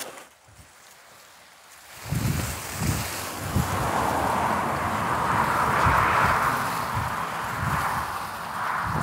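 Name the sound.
wind and passing cars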